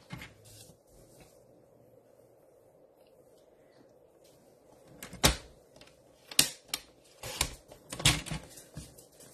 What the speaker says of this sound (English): I'm going to bring my trimmer back out, and we're going to cut the DSP at 2 1/4.